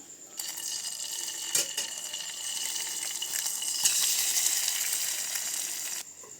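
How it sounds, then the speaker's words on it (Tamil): An egg fries in a pan, producing a steady, bright sizzle that starts abruptly and holds for several seconds with a couple of small knocks, close and with no talking. "இப்போ தனியாக முட்டையை ஃப்ரை பண்ணி எடுத்துக்கலாம்."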